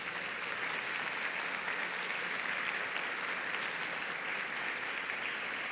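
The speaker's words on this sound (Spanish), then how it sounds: "Dale un aplauso al Espíritu Santo." A church congregation at a Sunday service applauds in a thick, even wash of clapping that holds steady at moderate loudness for nearly six seconds, with no talking on top.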